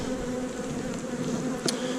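Honeybees buzz in a steady, dense drone close by, with no voices, as a colony is opened during a hive inspection.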